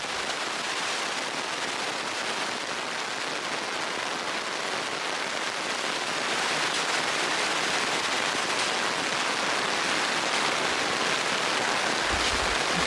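Heavy rain pours steadily onto a kitchen garden, a dense, unbroken hiss of drops on leaves and soil that stays loud and even throughout, with no voices.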